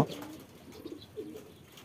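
Domestic pigeons kept on a home rooftop coo softly while waiting for food, low murmuring calls rising now and then, with a faint wing flutter at the start.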